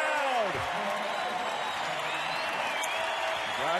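Arena crowd at a Gonzaga versus North Dakota basketball game cheering and applauding after a three-pointer, a loud, sustained roar with whoops rising over it.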